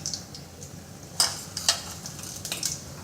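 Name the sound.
mustard seeds and cumin sizzling in hot oil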